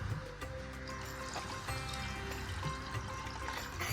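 Water poured from a vessel into curd while making buttermilk at home, a steady trickling pour running continuously for a few seconds at moderate level, close by, with faint background hum and no talking.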